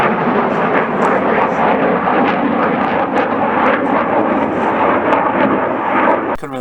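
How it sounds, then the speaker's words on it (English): A MiG jet based at a local airport flies close overhead, a loud, continuous, rough roar that fills the whole stretch without letting up. "it's loud and it's exciting to see a jet go by it pretty close and loud and noisy"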